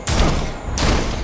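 A gunshot in the video game Gotham Knights, fired at a security guard: two loud, close blasts in quick succession with long noisy tails, no talking.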